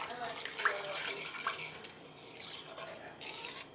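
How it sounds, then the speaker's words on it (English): A small spoon stirs a sourdough cinnamon raisin mixture in a bowl, making faint soft scraping and light clinks close by, with a couple of brighter taps. "Let me grab a little bitty spoon here to stir that around."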